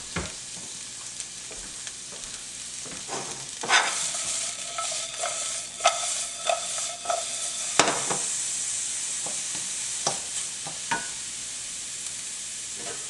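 Sliced onions fry in sesame oil in a low-carb home kitchen, giving a steady broadband sizzle with intermittent stirring scrapes and clicks of a utensil against the pan, close and moderately loud with no voices.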